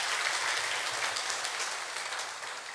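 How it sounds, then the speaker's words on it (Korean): A church congregation claps together during a Friday evangelism service, loud dense applause that stays strong and then tapers slightly toward the end, with no talking. "모든 영광을 하나님께 박수로 영광 돌리겠습니다."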